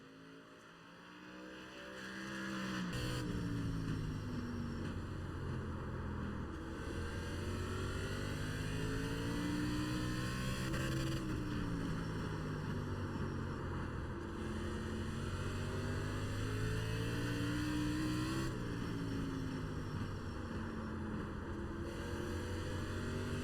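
ARCA race car lapping Southern National in the iRacing sim, a steady loud engine drone rising and falling through gear changes and corners over about twenty seconds, no talking.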